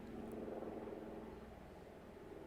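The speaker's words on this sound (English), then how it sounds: "A loud-ass helicopter going by." Helicopter passing by, a loud steady low rotor drone with a faint rhythmic pulse that holds through the whole stretch and eases slightly toward the end.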